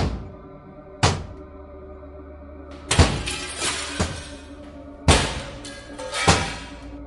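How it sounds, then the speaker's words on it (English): A heavy metal or brick object slams repeatedly into window glass, several loud, sharp cracking impacts spaced irregularly with ringing, rattling decay between them. "Something heavy like metal or a brick slammed repeatedly into the glass."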